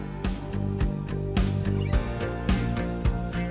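A tarpan-type wild horse neighs in a series of shrill, quavering whinnies, with a few soft thuds between calls.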